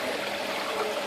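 Water flowing steadily through a home aquarium set to high flow, a continuous close rushing trickle with no talk over it.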